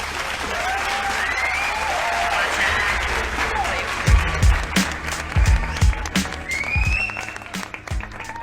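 A live audience claps and cheers loudly after a rap performance at a recorded show. The applause is dense and sustained throughout, with a few heavy thumps and shouts rising partway in.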